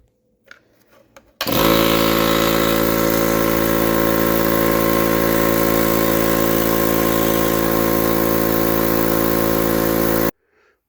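A Harbor Freight air compressor on its first test run after repair starts abruptly and runs with a loud, steady motor drone and strong harmonic hum for about nine seconds before stopping suddenly.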